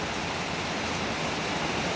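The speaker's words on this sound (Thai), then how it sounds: "ฝนตกนะครับ" Heavy rain pours steadily in a flooded Thai village, a dense, even hiss of falling water and runoff that holds at the same loud level throughout with no voices.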